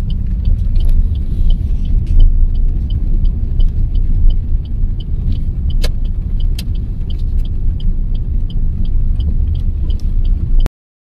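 A car drives slowly through dense fog on a winter road in Haryana: a loud, continuous low engine rumble with faint regular ticking, like an indicator, and a few sharp clicks, then an abrupt cut.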